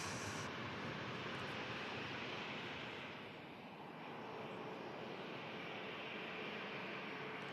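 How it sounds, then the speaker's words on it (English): A Ryanair airliner rotates and climbs away from runway 23L at Manchester Airport, its jet engines producing a loud, steady broadband roar that holds throughout, dipping slightly midway, with no talking. "Ryanair rotates."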